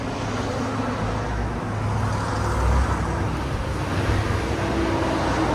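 Steady low rumble of tyre and road noise inside a 2023 Porsche Cayenne S with a 2.9L turbo V6 on the move, a continuous broadband drone holding even loudness with slight swells and no voices.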